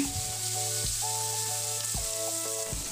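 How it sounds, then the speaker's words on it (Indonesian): Tempeh coated in batter fries in hot oil, giving a dense, loud, continuous sizzle with steady crackling and brief low bumps, no voices. "Pertama kita goreng tempenya dulu dengan adonan yang biasa."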